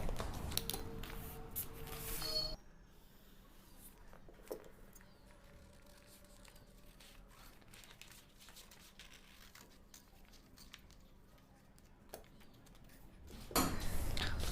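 Scissors cut cotton-style blouse fabric along the back neck of a size-40 Bombay cut katori blouse: faint, sparse snips and soft cloth rustle, with louder handling of the fabric at the start and end.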